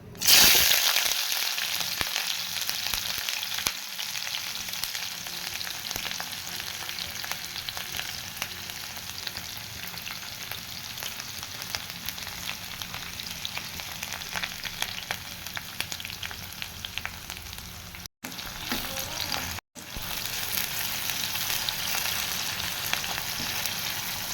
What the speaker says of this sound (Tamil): இப்போ நறுக்கி வச்சுருக்கக்கூடிய வெங்காயத்தை சேர்த்துக்கலாம்